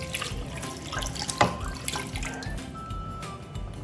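Running tap water pours steadily into a cooking pot, with a brief splashy burst partway through and faint kitchen clatter around it.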